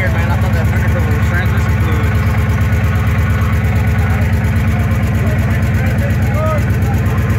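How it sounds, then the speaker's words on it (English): A rat rod's engine idles steadily up close, low and continuous, with a faint rhythmic puffing pulse from a small exhaust leak running through it and no other sounds. "Sounds like a little exhaust leak"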